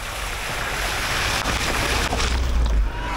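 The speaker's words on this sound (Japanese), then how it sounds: "こんな風に水たまりがあるんですでもなんたって私が乗ってるのはジムニーですから全然関係なく行っちゃいますけれどもね" A Suzuki Jimny Sierra drives through a puddle, making a loud, steady rush of splashing water over a low rumble, with no talking.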